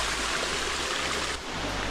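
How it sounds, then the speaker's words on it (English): River stream running near the Butterfly Valley waterfall on the Turkish coast, a steady close rush of flowing water with a low rumble underneath and a brief dip near the end. "the river has started to run"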